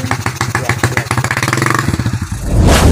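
Motorcycle engine running while riding through rice fields, a steady mid-pitched throb with rhythmic pulses and slight revving, close and loud, ending in a burst of wind rush.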